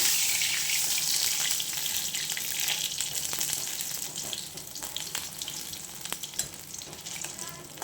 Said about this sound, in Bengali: ভালো করে মচমচে করে ভাজা